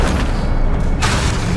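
An Incendio fire spell blasts in the Hogwarts Legacy video game, a loud, close booming burst of flame with a sharp whoosh, followed by a second surge of roaring noise near the end.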